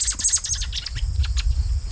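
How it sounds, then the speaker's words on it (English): Inside a barn, a bird gives rapid, close, repeated chirping calls over a low rumbling background. "oh, such a handsome bird. Such a handsome bird. Are you hungry?"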